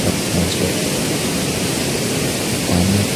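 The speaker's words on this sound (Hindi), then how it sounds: "पानी की बहने की बड़बड़ाहट से मैं सुनाई देती हूँ, सुन के डर सा भी लगता है।" Rushing river water along the Gangotri-Gaumukh trek gives a steady, loud broadband roar with no breaks for the full few seconds, and a faint voice briefly sits under it near the end.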